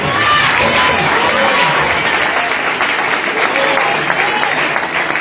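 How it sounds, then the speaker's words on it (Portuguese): A church congregation at a youth gathering applauds together in a dense, sustained burst of clapping with scattered cheers, loud and steady throughout. "dê uma salva de palmas para Jesus"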